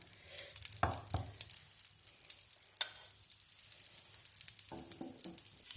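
Quiet sizzling of ingredients frying in smoked oil in a pan, with occasional sharper crackles and stirring scrapes, no voices.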